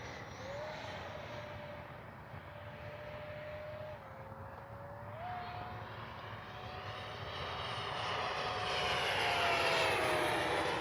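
A Freewing 70mm Vulcan RC jet flying overhead: a steady, whining electric ducted-fan drone at a moderate distance that swells slightly louder toward the end, with no talking.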